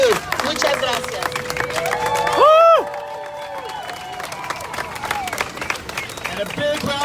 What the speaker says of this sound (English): a big round of applause for Marilena Durazo, our senator